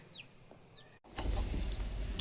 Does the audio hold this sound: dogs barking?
no